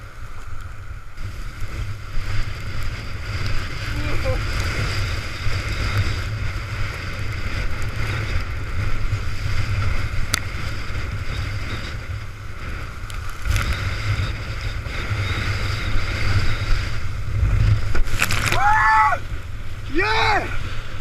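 Strong, gusty hurricane wind roars steadily with water sloshing while windsurfing off the coast of Ireland during a storm, and a voice shouts briefly near the end.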